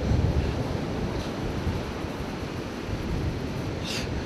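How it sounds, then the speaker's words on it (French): Ocean surf and wind on an Alaska beach form a steady loud roar with gusty rumble against the microphone, continuous and without voices. "Vous voyez les vagues là-bas,"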